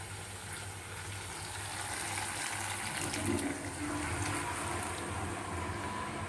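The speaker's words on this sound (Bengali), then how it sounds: "এবার এই জলটা এখানে আমি মিশিয়ে দেবো।" Lukewarm water poured into simmering curry gravy for chhanar kofta, a steady watery pouring and bubbling wash that holds at an even level for several seconds with no voices.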